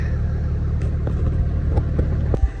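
A bus engine, running again after a melted fuse under the hood, idles with a steady, close, low rumble and a few faint ticks and knocks over the top.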